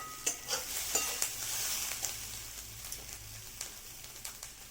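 A spoon scrapes and stirs bottle gourd curry in a pan over a soft constant sizzle, with a series of light taps and scrapes, close and fairly quiet, no talk.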